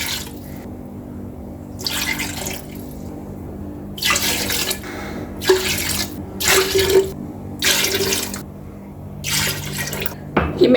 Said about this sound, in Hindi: इसी के अंदर अब हम पानी डाल देंगे।